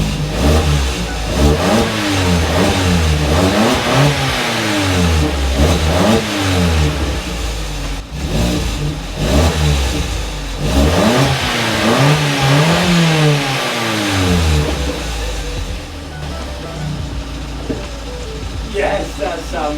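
Corsa C track car with a new exhaust manifold revs repeatedly, its engine note rising and falling in a series of sharp blips from close by, with voices audible in the background.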